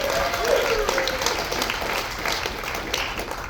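An audience at a stand-up comedy show in Douglas, Wyoming claps and applauds steadily throughout, a dense wash of hand claps with scattered whoops and crowd noise.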